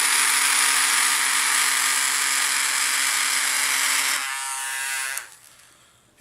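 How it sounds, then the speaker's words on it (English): A small battery-powered electric motor whirs in a steady high-pitched buzz, then drops in pitch and winds down to near silence. "And it turns on the electric motor."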